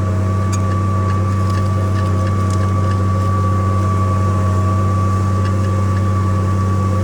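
An MTZ tractor engine runs under load while pulling a plough through a field, making a loud, steady low drone with some wind buffeting across the microphone.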